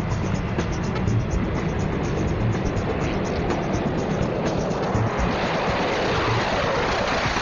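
F-18 fighter jets taxiing out at a military airfield, a loud, continuous broadband jet engine roar that swells slightly toward the end, with no voices.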